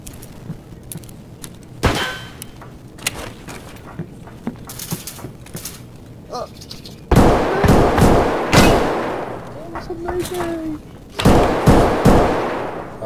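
Suppressed gunshots in Escape from Tarkov on the Factory map, a series of muffled sharp cracks fired nearby in bursts, mixed with clicks and rattles and occasional talk.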